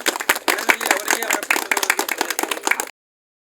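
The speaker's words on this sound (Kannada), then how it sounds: "ಜೋರ ಚಪ್ಪಾಳೆ" Loud applause from a gathered crowd at a devotional event, dense rapid clapping close by with voices mixed in, ending abruptly.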